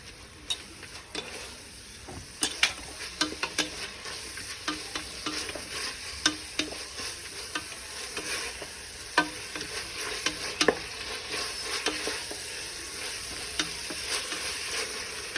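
Coriander leaves being sautéed in a pan for kuska biryani, a steady soft sizzle broken by repeated clicks and scrapes of a spoon stirring, close and unaccompanied by speech.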